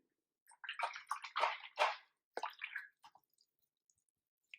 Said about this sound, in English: Rinsed out my brush.